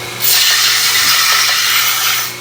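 A belt sander grinds burrs off cut titanium tubing for a bicycle front end, producing a loud, continuous hissing abrasion that starts suddenly and holds steady for a couple of seconds before easing off.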